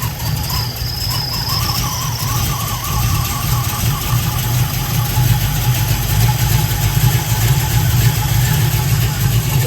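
An old boat engine running on a troublesome carburetor, rumbling steadily and close with an uneven, labouring idle and faint whining overtones, loud throughout.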